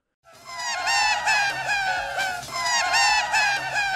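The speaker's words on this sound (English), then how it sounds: "What sounds like seagulls squawking, but is actually a distorted and sped up recording of Paul McCartney laughing" A sped-up, distorted tape loop of a man laughing sounds like shrill seagull squawks, loud and repeating in wavering, gliding cries from a 1960s Beatles studio recording.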